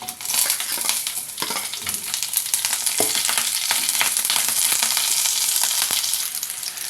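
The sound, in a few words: curry leaves and green chilli pieces sizzling in hot oil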